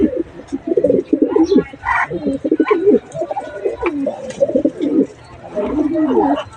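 Young domestic pigeons, still wet after a bath, give soft repeated coos and murmuring calls at close range. The calls come in short bursts with brief pauses.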